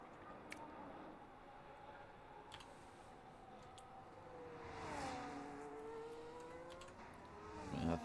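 McLaren Formula 1 cars in a video game circling the Jeddah street circuit, their engine notes rising and falling at a moderate distance beneath light clicking, growing louder toward the end.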